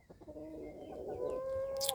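Young roosters on a backyard farm cluck and call in short, tonal bursts, fairly close and moderately quiet.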